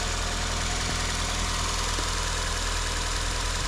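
A 1998 Toyota Levin coupe, a Japanese-market right-hand-drive Corolla with a 1.6 liter engine, idles close by with a steady, even hum and an unchanging low drone throughout.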